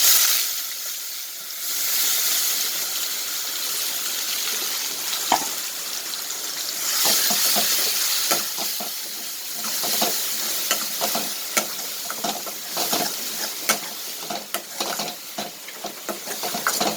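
A ground paste of big onion, garlic and dried red chilli frying in oil tempered with mustard seeds, asafoetida and curry leaves for roadside-style tomato chutney: a loud steady sizzle and hiss with repeated sharp spatter pops and stirring clatter, close and without talk.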